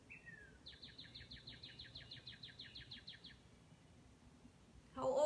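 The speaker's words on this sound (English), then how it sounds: "just sit and listen to the birds" A bird sings a rapid trill of repeated high notes outdoors, fairly faint over a low background hum, followed by a brief louder rustle.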